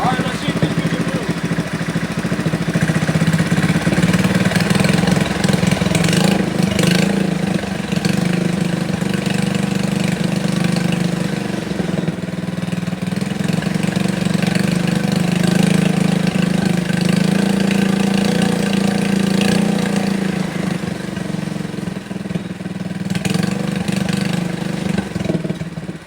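A Yerf Dog Spiderbox go-kart engine idles loud and close as it warms up, a steady, unbroken mechanical drone with a low throb and rattly exhaust note holding through the whole stretch.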